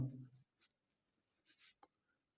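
A pen scratching out short strokes on paper while a triangle's angle sum is written during a Hindi-medium class 7 maths lesson, with a few brief, faint scribbles after a low voice fades at the start.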